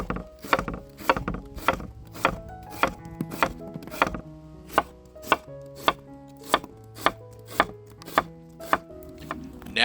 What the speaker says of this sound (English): While the brats are marinating, go ahead and slice your onion.